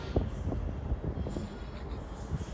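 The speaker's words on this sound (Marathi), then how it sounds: "टेकड्यांवरून उंच पहाडावरून रेल्वे बघण्याचा एक आनंद वेगळाच असतो." A train rumbles along its rail line below a hilltop near Pune, a steady low roar of wagons rolling past at a distance, continuous and moderately loud throughout.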